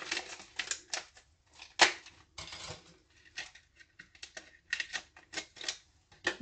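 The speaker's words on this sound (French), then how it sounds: "je vais y aller carrément au ciseau pour l'ouvrir." Scissors cut open sealed packaging holding metallic shapes, producing a quick series of sharp, close snips and crisp plastic crackles in an irregular rhythm.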